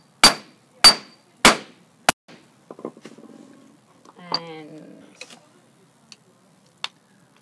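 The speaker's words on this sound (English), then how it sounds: "And then hammer." Four sharp, loud hammer blows strike an eyelet press set into curtain fabric, evenly spaced, followed by quieter clinks and rustling of the metal press parts being handled.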